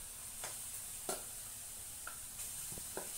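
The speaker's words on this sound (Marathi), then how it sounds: "पुरणाला इथे मी चटका देते आहे" Puran, a cooked lentil and jaggery filling, heating in a pan with a soft continuous sizzle and a few scattered spatula scrapes, quiet and close.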